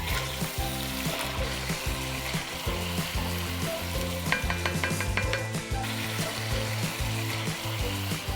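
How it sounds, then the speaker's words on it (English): Whole spices such as cinnamon sticks, black and green cardamom, star anise, cloves and black peppercorns are stirred as they fry in oil in a pot for Delhi-style chicken degi biryani. A steady loud sizzle runs throughout, with scraping stirring strokes and brief metallic clinks. "Let's give this a stir."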